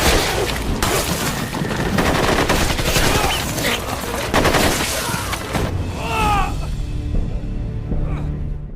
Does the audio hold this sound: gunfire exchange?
yes